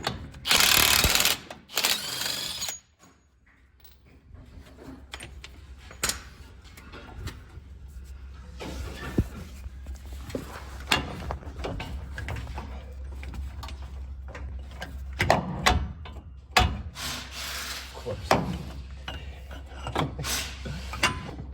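Removing the 36 mm axle nut on a 2013 Chevrolet Silverado during a CV axle replacement, a loud burst of tool noise at the start, then quieter clicking, rattling and clunking of hand tools and parts.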